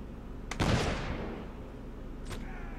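A single cannon shot booms in the Mount & Blade Warband game, a sharp blast with a fading rumble, then a smaller distant report follows.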